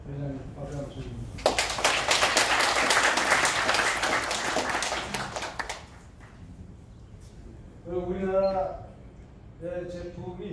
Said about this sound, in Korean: 김민혁 회장님 박수 한번 주십시오